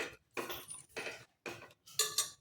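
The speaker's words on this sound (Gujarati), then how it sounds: "બધું જ આપણે સારી રીતે મિક્સ કરી લઈશું" Onion and potato curry stirred with water inside a pressure cooker, four or five separate bursts of spoon clinking and scraping against the metal pot, close and clear with short silences between.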